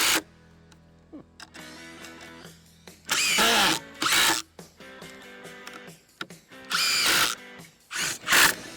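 A Milwaukee M18 FUEL Gen3 cordless hammer drill whines up to high speed on its high mode in several loud bursts, separated by quieter pauses and faint mechanical clicks.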